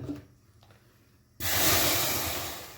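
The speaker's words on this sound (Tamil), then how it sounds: "சுடு தண்ணியை ஊற்றிட்டு" Hot water gushes into a pressure cooker holding bones and meat for soup, a sudden loud, broad rush that starts after a quiet moment and holds steady, easing slightly at the end.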